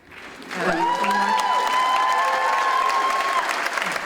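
A concert crowd in Linz applauds and cheers, rising quickly into loud, sustained clapping with whoops and a high held shout over the top.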